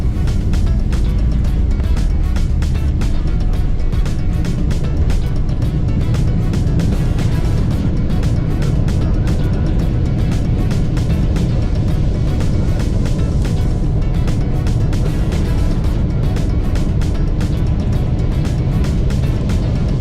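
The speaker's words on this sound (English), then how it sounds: "The engine noise gets louder as power increases" A loud, steady roar of a Boeing 777's jet engines during takeoff fills the clip, a dense rumbling wash of noise without breaks.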